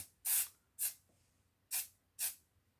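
Four short bursts of aerosol spray hiss on model railway trees, two close together, a pause, then two more, loud and close with quiet between.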